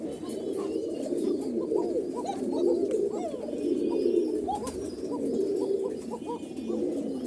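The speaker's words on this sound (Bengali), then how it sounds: "এই যে এই এক জোড়া কোকা ডাক শুনতে পাচ্ছেন" A pair of Koka pigeons at a pigeon house coo steadily, with repeated soft, throaty calls rolling on for several seconds at close range.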